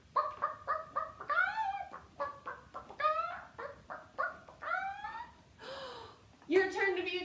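A person imitates a chicken with a run of clucking calls and drawn-out squawks in bursts, close and clear against a quiet background.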